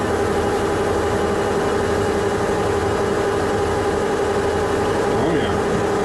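A machine tool slowed to 100 RPM hums and drones loudly and steadily while cutting a case-hardened two-part combination gear for a welding positioner, with a faint squeal near the end.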